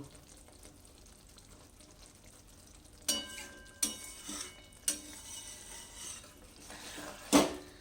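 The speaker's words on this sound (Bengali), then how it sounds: "এবার একটু এরকম করে একটু ধনে পাতাগুলোকে সব জায়গাতে একটু মিশিয়ে দেব" Coriander leaves stirred into an eggplant curry in a pan, with a faint sizzle at first and then several sharp spatula scrapes and knocks against the pan, sporadic and close.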